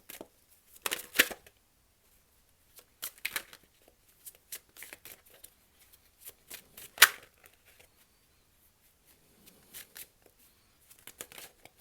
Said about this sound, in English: while I may be shuffling the cards